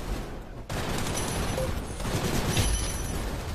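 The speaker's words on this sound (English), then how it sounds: "No, don't shoot me with your SMG." Rapid SMG gunfire in the video game Gun Raiders rattles in continuous dense bursts over a busy game soundscape, loud and close throughout.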